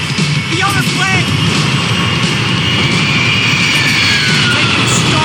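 An airplane engine in the video game Max Payne 3 gives a loud, steady jet roar that holds unbroken throughout, with brief tonal sweeps near the start.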